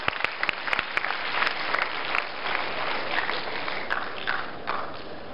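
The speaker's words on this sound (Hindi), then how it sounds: "छोटे ब्रह्मचारी के लिए थोड़ी और जोरदार ताली बजा दीजिए" Sustained audience applause at a Guru Puja gathering at Patanjali Yogpeeth in Haridwar, dense clapping throughout with a few sharper individual claps standing out, steady and fairly loud with no voices over it.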